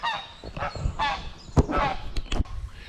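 Canada geese give a string of loud nasal honks near a lake, several sharp calls bunched together over a couple of seconds, fairly close with quiet background between them.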